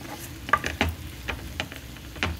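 Prawn fry with coriander being stirred in a pan, a utensil scraping and clinking against the metal in irregular strokes over a soft, steady sizzle.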